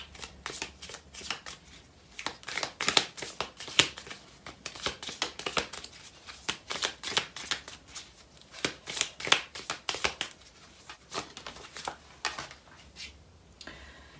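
A deck of Twin Flame oracle cards is shuffled by hand in quick, crisp riffling bursts that repeat steadily, close and clear with almost no talking.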